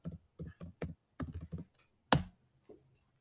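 A computer keyboard typed on up close for a Google image search, several short bursts of quiet key clicks separated by pauses, with one louder key strike near the end.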